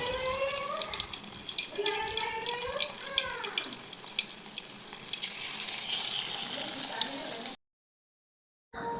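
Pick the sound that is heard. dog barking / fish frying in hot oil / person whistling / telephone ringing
fish frying in hot oil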